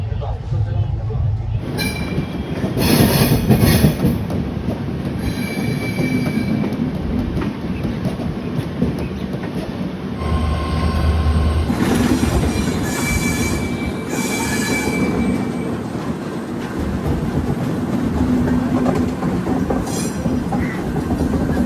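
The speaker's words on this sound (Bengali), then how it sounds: "ট্রেন এসে পৌঁছালো পুরীতে" The Puri Garib Rath Express rolls into Puri station, wheels squealing and carriages clattering over the rails in a long, loud passage, with voices talking nearby.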